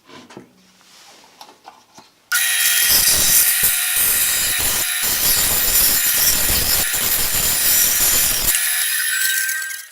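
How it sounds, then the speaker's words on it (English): A Porter-Cable 14-inch bandsaw in a woodshop cuts a circle in a jig, with a loud, steady rasping saw noise that starts abruptly after a quiet moment, runs for several seconds and ends at a fade. "I'll get the bandsaw started, get this up to the stop, cutting in there a bit until it stops, and then I'll start turning the circle."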